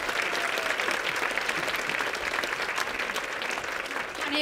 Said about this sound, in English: a massive Coventry round of applause for Holly Mathews